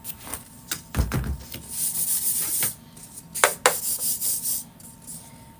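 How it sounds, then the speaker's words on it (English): Hand sanding of wood for a homemade fence hanger, heard as a few short scratchy strokes followed by a run of steady, close, brisk rubbing passes, with no talking. "I'm not the best sander here, but it gets the job done"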